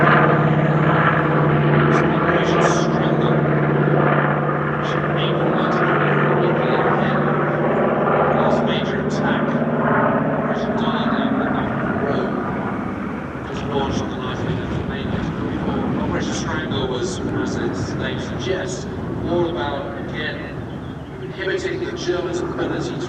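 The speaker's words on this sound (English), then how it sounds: "B-25 coming in for last pass." A B-25 Mitchell bomber makes a low pass at an airshow, its propeller engines droning loud and near before fading off into the distance. An announcer talks over the engine noise throughout.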